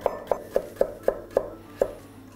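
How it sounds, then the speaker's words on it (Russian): A knife chops carrot finely on a board for turkey and potato soup, about nine crisp, evenly spaced cuts ringing out close and clear, with no talking. "Я мелко нарежу морковь вот эту"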